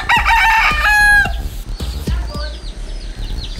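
Fighting roosters crow loudly and close by in the mountains of Cebu, Philippines, one long cock-a-doodle-doo followed by scattered clucks and calls from the surrounding flock.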